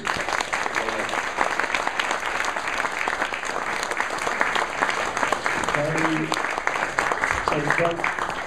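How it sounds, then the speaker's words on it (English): An audience at a Roland synthesizer talk about the Jupiter-8 and Jupiter-80 gives a sustained round of applause, dense and even throughout, with a voice briefly speaking over it near the end. "Big round of applause."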